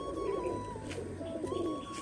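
Giribaz pigeons at a loft call to one another, a green male cooing behind a bali powder pigeon; soft, repeated throaty coos overlap steadily at close range.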